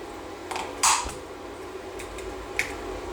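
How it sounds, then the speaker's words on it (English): Segments of 3D-printed Loc-Line hose snap together in a few small, sharp clicks over a quiet background, with one click more distinct than the others. "you just keep clicking to build up a pipe"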